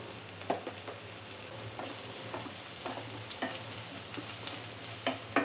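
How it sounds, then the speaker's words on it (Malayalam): Onions with turmeric sautéing in a pan, a soft constant sizzle broken by regular scraping strokes of a spoon, close and fairly quiet with no voices. "ഇപ്പോൾ സവാളയെല്ലാം നന്നായി തന്നെ ഒന്ന് വഴറ്റിയെടുത്തിട്ടുണ്ട്."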